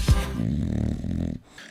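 A dog on a couch growling or snoring, one short rough, throaty rumble that holds steady for over a second before breaking off, close and fairly loud with no voices.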